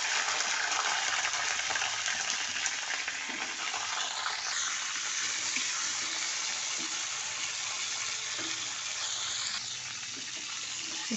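Cauliflower florets frying in hot oil in a pan, a continuous loud bright sizzle with occasional stirring scrapes, steady throughout with no talk.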